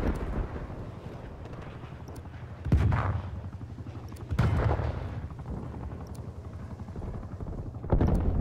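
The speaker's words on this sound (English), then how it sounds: "That stupid helicopter." A steady, rumbling helicopter drone from Call of Duty: Black Ops Cold War online play, loud and continuous, punctuated by three sharp explosive bursts.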